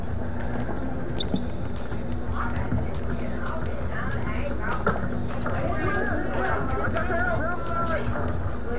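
Crowd hubbub fills an NBA 2K22 basketball game, a steady murmur under scattered sneaker squeaks and bounces, with voices talking over it.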